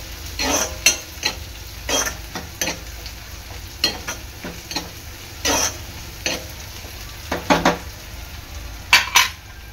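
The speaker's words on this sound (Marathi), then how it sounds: "ह्यामध्ये टाकणार आहे मी कांदा, कांदा पण चांगला शिजवून घ्यायचा आहे" Onion cooking in a pan with repeated spoon scrapes and taps against the metal over a low sizzle, strokes coming in irregular bursts every second or so, close and fairly loud.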